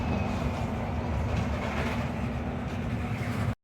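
A passenger train in Stuttgart rolls along at a steady pace, heard from inside the carriage as a continuous rumble with faint clatter of the wheels and no talk.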